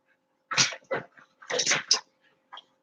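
A dog whimpering and yipping indoors, several short close high-pitched bursts in two clusters followed by one small final whine, with no talk.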